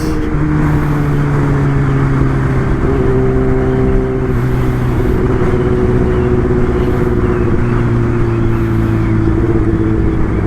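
Kawasaki ZX-10R motorcycle being ridden, a loud, steady engine drone with sustained tonal whine and heavy wind buffeting, shifting pitch slightly as it cruises, no voices over it.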